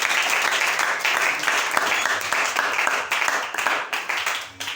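A church congregation breaks into sustained applause to acclaim the Lord, dense overlapping clapping filling the space steadily for several seconds, with a few voices mixed in.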